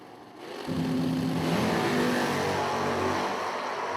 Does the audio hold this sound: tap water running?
no